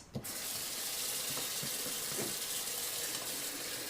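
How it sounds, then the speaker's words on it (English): A kitchen tap runs steadily for hand washing, a continuous hissing stream of water splashing into a sink, close and even throughout. "But first we gotta wash our hands."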